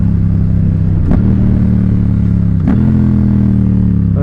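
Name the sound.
Yamaha FZ-07/MT-07 motorcycle with Ixil L3XB exhaust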